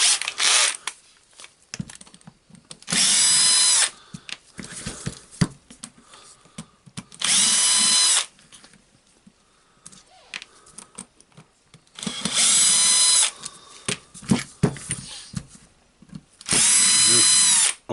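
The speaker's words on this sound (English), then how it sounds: "And we have the 4 screws here holding the gear housing. I will unscrew them." A power screwdriver backs Torx screws out of the gear housing of a Milwaukee M18 cordless drill. Four loud whirring bursts, each about one to two seconds, come close up with quiet handling clicks between them.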